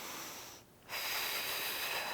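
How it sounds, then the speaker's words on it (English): A deep breath drawn in and held while setting up under a barbell for a box squat: steady close airy rush of inhaled air with a brief pause, then a fuller, louder breath sound. "nice big deep breath"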